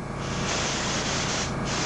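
A steady, close aerosol spray-paint hiss, used to paint a redbreasted sunfish for taxidermy, runs for about two seconds, even and unbroken, with no voices.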